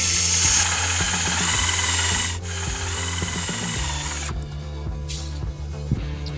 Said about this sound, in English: we want to secure our rail section to the clips by driving screws top and bottom